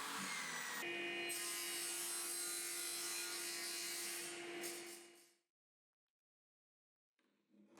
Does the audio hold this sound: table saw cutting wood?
yes